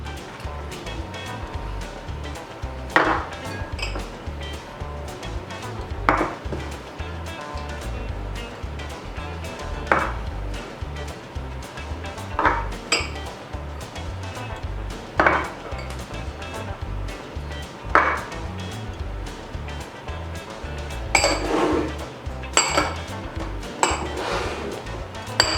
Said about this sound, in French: On va prendre une maryse et on va mettre tous les ingrédients dans le saladier.